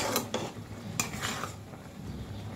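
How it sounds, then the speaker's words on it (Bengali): Maggi noodles with egg and vegetables stirred in a pan, a few sharp utensil knocks and scrapes against the metal over a faint sizzle, close and unaccompanied by speech. "ভালো করে গুলিয়ে নিচ্ছি"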